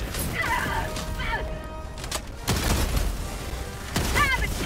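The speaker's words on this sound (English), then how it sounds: "Throwing grenade!" A grenade blast in the game Helldivers 2 goes off as a loud, broad boom near the middle, with more crashing bursts close behind, under players' voices and battle noise.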